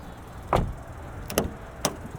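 Hood latch and release on a 2024 Buick Envista Sport Touring: a single muffled thunk, then a pair of quick metallic clicks and one more click, close up with no talk.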